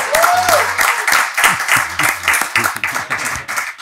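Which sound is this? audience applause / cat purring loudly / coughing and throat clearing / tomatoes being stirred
audience applause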